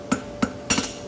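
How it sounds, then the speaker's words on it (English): A farrier's hammer taps a hot lateral bar shoe together at a forge, four quick metallic strikes, close and distinct, with a faint hum behind. "When I come out, I'll just tap it together a couple of times"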